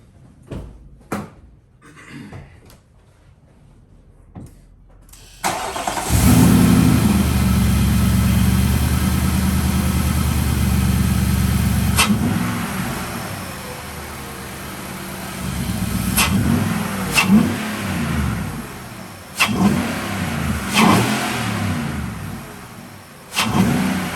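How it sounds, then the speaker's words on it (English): A truck engine fitted with a K&N air filter cranks and catches, idles with a steady low rumble, then rises in a couple of quick loud revs close by, with no talking. "So I'm gonna do a start of the truck, do a couple of quick revs of the engine"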